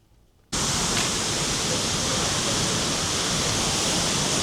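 Seljalandsfoss waterfall in winter Iceland roars as a dense, steady broadband rush that bursts in loud and close after a brief quiet moment, then holds unchanging with no voices.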